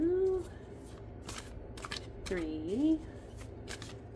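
Tarot cards are shuffled by hand with quick, crisp, rapid riffling flicks close to the microphone, under a woman counting aloud.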